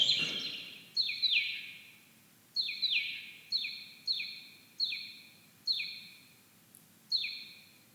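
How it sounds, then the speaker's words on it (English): A single bird chirps in short, repeated high-pitched calls, about eight bursts at a steady pace, clear and close against a quiet background. "Or even on just one bird, happily chirping away."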